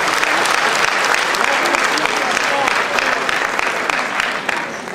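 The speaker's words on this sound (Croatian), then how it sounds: "jedan veliki, veliki aplauz" A concert audience gives loud, sustained applause, dense clapping from a large crowd filling the room and tapering slightly at the end, with a voice faintly audible beneath it.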